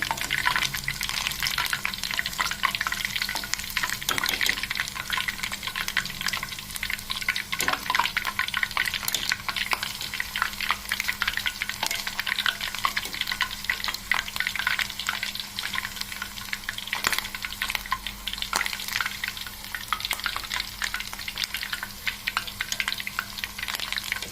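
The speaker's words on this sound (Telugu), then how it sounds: "ఆయిల్లోకి మనం బాయిల్ చేసుకునేటప్పుడు జల్లు చుట్టుపక్కల ఆడుతుంది కదా" Hot oil boils in a deep pot, bubbling and splattering continuously with steady crackling and popping, close by, with no voices.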